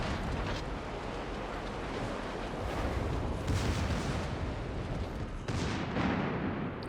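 Rapid secondary gun fire from a World of Warships West Virginia 44 battleship rolls on as a steady, thick wash of overlapping blasts, with a few sharper bursts standing out near the end and no talking.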